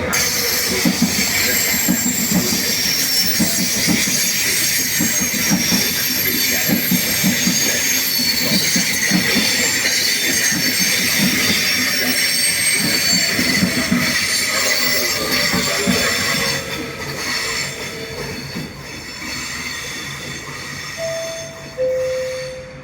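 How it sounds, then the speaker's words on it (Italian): A Trenitalia Frecciarossa high-speed train pulls into Padova station, its wheels squealing loudly and steadily on the rails with a rumbling roll beneath, then easing as it slows to a stop. "Il treno Frecciarossa 8801 di Trenitalia delle ore 7:23 parcheggia in arrivo al binario 1."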